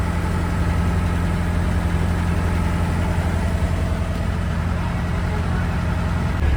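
The engine of a Kumarakam houseboat runs steadily on the backwater, a loud, constant idling drone with a low hum and no breaks.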